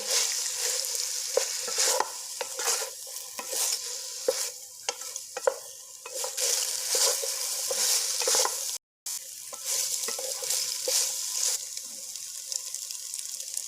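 Chicken macaroni being stirred in a hot pan, a spoon scraping and clacking repeatedly against the metal over a steady loud sizzle, with no talking.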